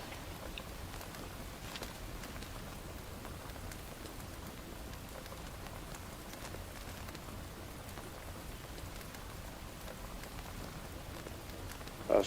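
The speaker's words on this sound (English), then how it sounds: "So they did a wonderful job with this rain, this water update." Steady, quiet rain pours continuously in the survival game Enshrouded, a soft hiss of falling water with no voices and a brief tap at the very end.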